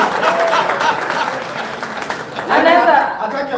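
Crowd applause at an awards ceremony, steady broadband clapping that swells again near the end, with an MC's voice talking over it.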